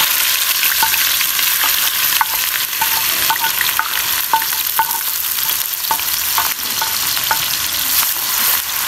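Onions frying in a pan for Lahori chana masala, giving a loud, steady sizzle with occasional sharp spoon scrapes and stirs, with no talking.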